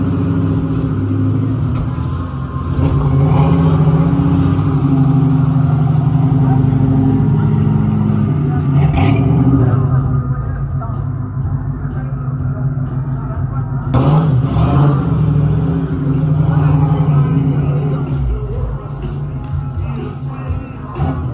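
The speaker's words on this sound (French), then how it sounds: "Et la Mustang derrière fait un bruit monstrueux." A Ford Mustang at a car meet in a château park, its loud engine rumbling and idling steadily with deep low throbbing for about twenty seconds, revving up briefly at moments, while someone talks nearby.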